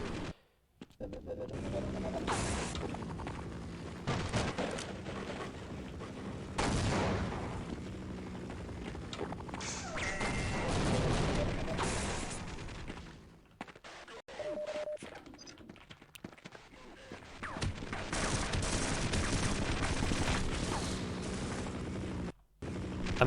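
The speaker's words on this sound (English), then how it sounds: "this Gauze gun, when we charge it, we can fire it behind us and get great speed" Gauss gun shots and other weapon blasts from the game Half-Life, fired while speedrunning, come as loud bursts and booming discharges spread across the stretch, with a commentator talking over much of the action.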